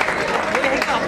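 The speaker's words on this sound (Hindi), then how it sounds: "तालियां हो जाए इस एफर्ट के लिए।" Wedding guests clap together in a dense, steady burst of applause lasting about a second, with crowd noise mixed in.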